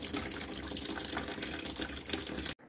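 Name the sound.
coolant draining from tap on Mercedes A-Class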